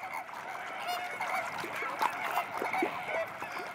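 Flamingos gather near their breeding grounds in spring in Europe, giving a busy chorus of goose-like honking calls that overlap continuously at moderate distance.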